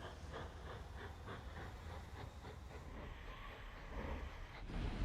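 Trains rumble along in the railway-building game Mashinky, a faint, steady rolling drone with light rhythmic clacking of wheels over track joints, growing slightly louder toward the end.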